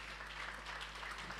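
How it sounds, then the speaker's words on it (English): Applause from a seated audience honouring a panel of speakers at a business innovation event, a short, quiet spread of many clapping hands with no voices over it. "Let's give them a big round of applause."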